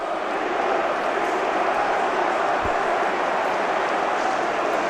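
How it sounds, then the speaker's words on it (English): Travelling Fulham supporters sing in a dense, sustained crowd roar at an away match against Hull City, a broad wash of voices holding steady throughout with a brief low thump partway. "He is serenaded by the travelling contingent"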